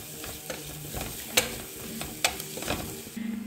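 Onions with chilli and turmeric powder sauté in a pressure cooker for egg biryani, a soft sizzle under repeated scraping stirs, with a few sharp clicks of a spoon against the metal.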